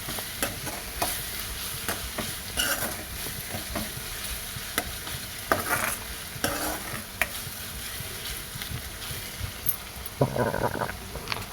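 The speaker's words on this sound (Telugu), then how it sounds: "అల్లం వెల్లుల్లి పేస్ట్ పచ్చివాసన పోయేంత వరకు ఆయిల్లోనే బాగా మగ్గనివ్వాలి." Ginger garlic paste fries in hot oil in a pan, a steady sizzle broken by repeated stirring scrapes and clicks of a spoon, close and moderately loud.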